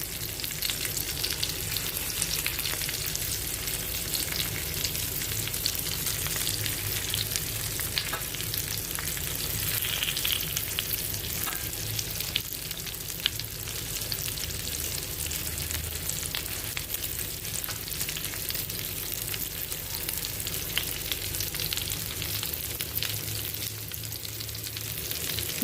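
Pieces of arbi (taro root) fry in a pan, spread out in one layer, with a continuous moderate sizzle and scattered pops, close and steady for the whole stretch, no talking.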